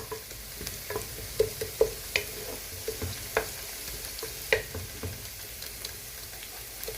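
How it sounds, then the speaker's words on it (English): Ginger paste cooks with onions in a pan, a low sizzle under a string of sharp spoon taps and scrapes against the pan at an irregular pace, no speech. "I can add in my ginger paste and allow it to cook together with the onions"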